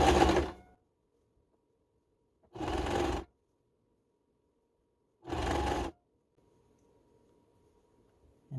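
A sewing machine stitches T-shirt fabric in three short, whirring runs of under a second each, separated by quiet pauses with a faint low hum, close and clear.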